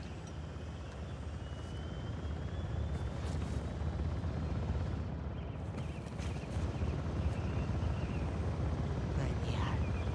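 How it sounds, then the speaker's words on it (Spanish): A helicopter flies overhead in the video game Uncharted: The Lost Legacy, its steady, loud rotor roar filling the scene throughout, with some faint rustling on top. "el helicóptero está en el aire"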